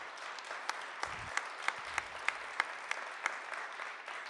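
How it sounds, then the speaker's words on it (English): Steady audience applause for performers after an immersive show of stories and songs, a continuous wash of many hands clapping with a few sharper individual claps standing out, no voices. "Let's give one more big round of applause for all of our performers"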